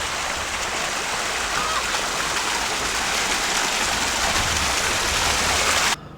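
An outdoor water fountain in Townsville, Queensland, splashes with a loud, steady hiss of falling water. The sound holds unbroken for about six seconds, then stops abruptly.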